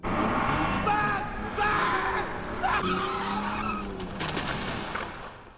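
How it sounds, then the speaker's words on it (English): A car races at full speed with tires skidding and squealing, a loud continuous engine roar and screeching rising and falling over several seconds, close and dense. "He gets in the car and races it at full speed"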